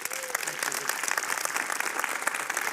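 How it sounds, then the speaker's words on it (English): An audience applauds to greet Senator John Kyl, a dense, steady burst of clapping filling the room throughout, with a voice briefly audible at the start. "Let's greet him with a round of applause."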